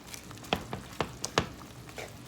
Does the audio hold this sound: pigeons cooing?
no